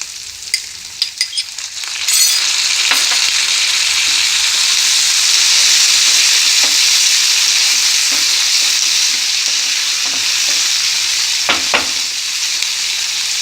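Vegetables with chopped tomatoes sizzle loudly in a pan for upma after a few quiet knocks at the start, a steady close frying hiss broken by occasional clinks of stirring.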